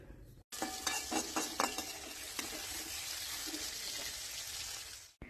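Tomato, ginger and leaf masala being stirred and sautéed in a pan, a steady close sizzle broken by several scraping stir strokes, with no voices.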